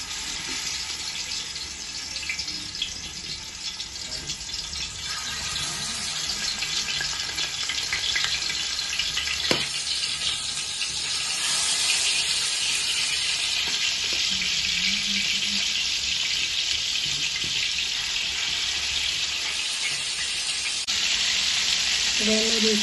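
Chicken pieces fry in hot oil in a home kitchen, a loud, dense, continuous sizzle that carries steadily throughout, with occasional faint clinks and no talking.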